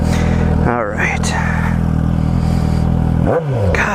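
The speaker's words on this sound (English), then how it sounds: "this isn't even a full exhaust either. This is just by taking the muffler off" A 2018 Suzuki GSX-S 750 with its muffler removed roars loud and close, its pitch sweeping up and down through gear changes under continuous throaty engine noise.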